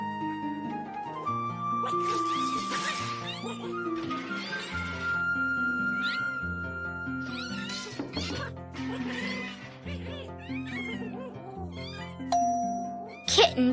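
Domestic kittens meow in a string of high, wavering calls, some drawn out and some clipped, over steady background music.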